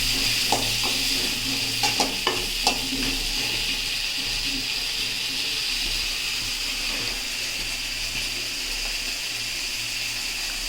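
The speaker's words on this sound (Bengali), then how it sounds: "এবার কেটে রাখা আলুগুলো এই তেলের মধ্যে দিয়ে ভেজে নেব।" Cut potatoes fry in oil with turmeric and salt, giving a steady soft sizzle with a few clinks and stirring taps near the start. A faint hum runs underneath.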